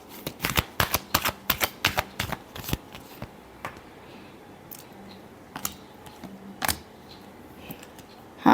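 A tarot deck is shuffled by hand up close: a quick run of crisp card slaps and riffles, then scattered single snaps and taps with quiet gaps between them.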